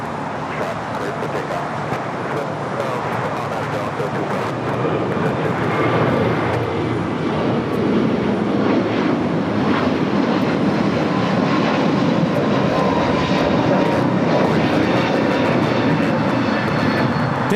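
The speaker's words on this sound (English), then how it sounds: "This is United Airlines 2487 taking off to Chicago on the A321neo." A United Airlines Airbus A321neo takes off at LAX, bound for Chicago: a loud, steady jet engine roar that builds and holds throughout, with faint road traffic mixed underneath.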